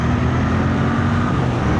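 A 2025 Royal Enfield Bear 650 motorcycle engine pulls hard under acceleration, a loud, dense, continuous roar with no voices over it.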